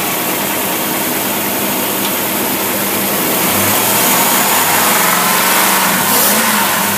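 A Buick V8 engine with a Carter WCMD carburetor builds steadily in pitch and loudness as it accelerates, a continuous mechanical roar with no voices.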